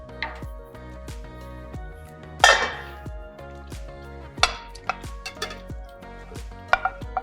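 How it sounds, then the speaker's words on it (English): Chopped eggplant, peppers and potatoes tipped into a pan of moussaka sauce, with a run of close, hard clatters and scrapes of pieces and utensil against the pan, a few louder knocks standing out. "I'm going to transfer these vegetables to the sauce all at once"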